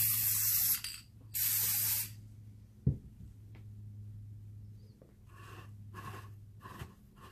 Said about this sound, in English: So now I'm going to go ahead and spray paint